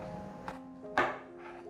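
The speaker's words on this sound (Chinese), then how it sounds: "切到最后，再把蒂头切掉。" A knife slicing through the stem end of a tomato on a cutting board, giving a few soft, close taps and cuts, with one firmer chop standing out among quieter strokes.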